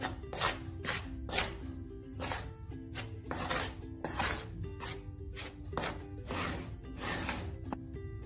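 Flour, salt and powdered milk for chicken bread dough are mixed in an open bowl, making soft rhythmic rubbing and scraping strokes that repeat close by at a quiet, even pace.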